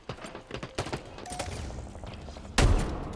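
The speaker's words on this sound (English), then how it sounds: "Oh, it's a shotgun, okay." Bulldog shotgun firing in Halo Infinite PC gameplay: a series of sharp, punchy blasts amid game noise, ending in a loud, heavy shot near the end.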